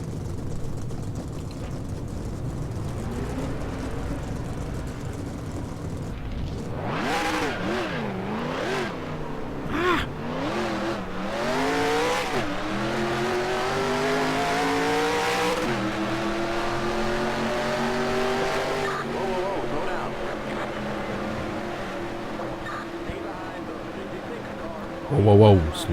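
Race car engines in the NASCAR Racing 2003 video game, a low drone that builds into loud revving sweeps and accelerating whines over most of the stretch, with a person talking over it at times.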